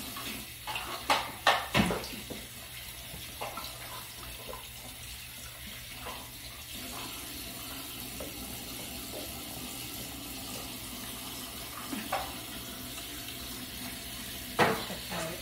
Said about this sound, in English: So turn on the hot water first. And then cold water.